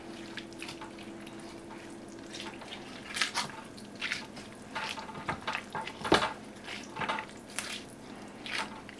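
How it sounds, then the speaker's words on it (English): A spoon stirs a pot of Kentucky burgoo stew with celery, okra and cabbage, making soft wet scrapes, squishes and light clinks in an irregular rhythm, quiet and close with no voices. "I'm gonna go ahead and try to stir this a little bit"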